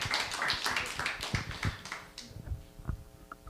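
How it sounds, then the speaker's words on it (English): Brief scattered applause from a small audience at the close of a talk, with a burst of quick claps early on thinning to a few isolated hand claps. "A round of applause"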